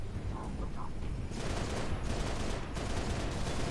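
Heavy gunfire in Halo Reach, a steady roar of shots that thickens into dense sustained bursts after a short quieter start.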